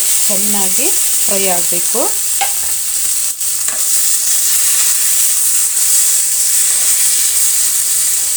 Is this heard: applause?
no